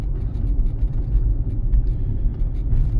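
A car driving along Prospekt Myru in Zhytomyr at about 40 km/h, heard from inside as a steady low engine and road rumble with no voices.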